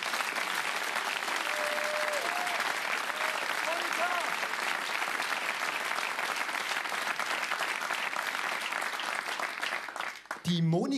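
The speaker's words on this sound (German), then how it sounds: "Vielleicht jetzt mal den großen Applaus für die Monika." A large audience at a German stand-up comedy show claps loudly and continuously, a dense even wash of applause with some brief cheering voices, tapering near the end as the comedian's voice returns.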